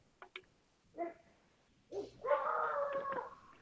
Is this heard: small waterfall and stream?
no